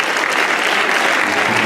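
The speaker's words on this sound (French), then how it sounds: "On peut les applaudir aussi." Dense, loud applause from a conference audience fills the space, steady and continuous throughout with no break and no voices.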